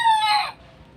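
A rooster crowing close by, one loud, strained call that breaks off halfway and leaves quiet rainy ambience.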